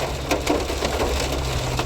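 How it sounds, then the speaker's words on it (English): Hail pelting down during a hailstorm with lightning about, a dense, continuous patter of close impacts with scattered sharper cracks and a low rumbling undertone, no talking. "I'm going through a hailstorm"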